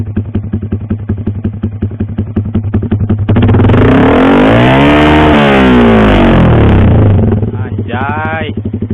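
Yamaha R15 V3 motorcycle fitted with a WRX GP6 exhaust, revved hard toward the limiter: a loud, close engine climbs from a steady idle into a sustained high-rpm roar, then drops back to a rough burbling idle.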